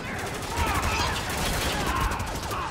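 Bursts of automatic gunfire from the video game Spec Ops: The Line rattle loudly in rapid volleys, with a voice shouting over the shooting.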